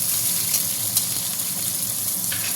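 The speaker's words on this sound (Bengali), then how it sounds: "গোল আলুটা একটু নেড়ে নেব।" Round potatoes sizzling loudly in a pan as they are stirred, a continuous bright hiss with a few faint scraping touches, close by and without talk.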